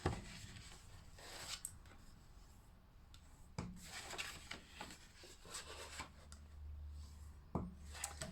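Close, dry rubbing and scraping strokes as paper folds are burnished on a papercraft Christmas favor exploding box, with a few sharper taps and scuffs scattered through a quiet room.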